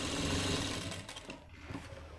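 A sewing machine runs a fast, continuous stitch along the edge of a pant front pocket, loud and close, then tapers off into quieter handling sounds.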